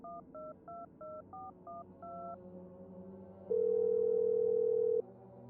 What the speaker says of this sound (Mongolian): дэрэн дорон хийсэн утсан гаргаж ирэн дугаар цоглоолов.